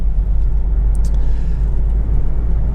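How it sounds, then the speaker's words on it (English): A Jaguar X-Type 2.0 diesel saloon rolls over a road bump, its loud, steady low cabin rumble and road roar filling the whole stretch with no clear separate thump or rattle. "this bump in particular about to go over now, which is horrible"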